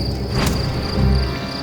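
Fighting crickets chirp in a steady, close, continuous trill, with a soft low rustle underneath and no voices.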